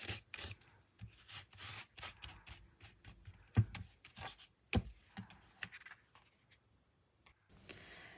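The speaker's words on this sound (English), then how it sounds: "I use a paper towel just to soften a few of those harsh lines." A paper towel rubs and dabs ink across paper on a mixed media craft project, soft close scratchy strokes coming in short bursts with quiet pauses between, faint overall.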